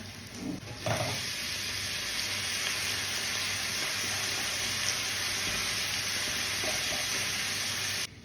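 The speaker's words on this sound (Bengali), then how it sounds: "ঝটপট করে আলু ভাজব এবার এর মধ্যে দিয়ে দেবো" Thin potato strips fry in a pan with a loud, steady, close hiss that runs unbroken throughout, after a brief clattering splash as they go in.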